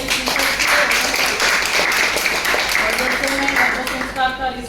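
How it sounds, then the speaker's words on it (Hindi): Medical seminar audience of doctors applauds, moderate steady clapping spread through the room over a few seconds, with speech running underneath. "तो जोरदार तालियां"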